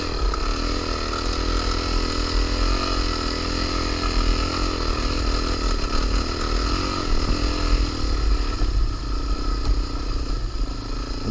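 A Suzuki DRZ400 dual-sport motorcycle engine drones loud and steady at high revs, climbing a sandy hill, with rattling and wind noise and no speech.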